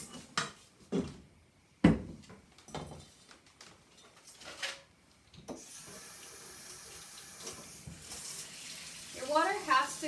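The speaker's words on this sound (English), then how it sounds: "all we need to do is soak these in cool water until they start to soften." Cool tap water runs steadily into a bowl to soak gelatin sheets for chocolate mousse, a continuous splashing stream starting partway through after a few kitchen clatters and knocks.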